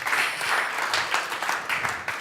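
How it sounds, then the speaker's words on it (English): Conference audience applause for speakers, a dense, steady wash of many hands clapping that carries on evenly for a couple of seconds, moderately loud with no voices on top. "Please, warm hand of applause for these fine people."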